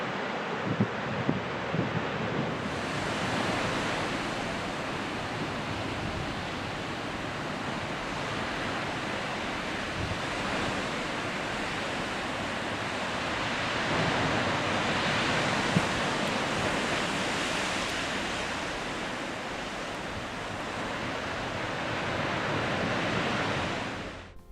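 Ocean waves along the Northern California coast near Redwoods National Forest wash in as a continuous broad roar of surf, steady and moderately loud, swelling slightly midway, with no voices.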